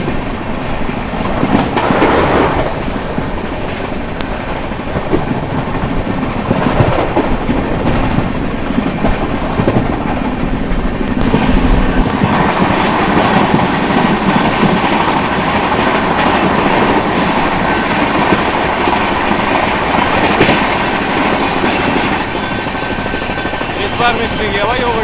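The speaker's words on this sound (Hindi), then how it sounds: "सारी स्पीड में ट्रेन लेफ्ट से निकल रही है" An Indian Railways Rajdhani Express running at about 130 km/h overtakes another train on the left main line, a loud continuous roar with rhythmic clickety-clack of wheels over rail joints; someone talks intermittently over it.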